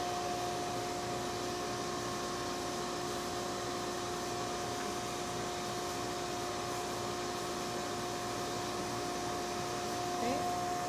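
A sandblasting nozzle carves stone in a steady, continuous hiss of blasting air and grit, loud and close, with a faint whine running underneath for the full length.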